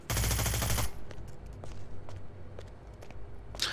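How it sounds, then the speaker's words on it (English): An MP7 submachine gun fires in Hitman: Blood Money, a loud rapid automatic burst lasting about a second, followed by quieter footsteps and scattered game sounds. "Well, let's use the MP7 SMG."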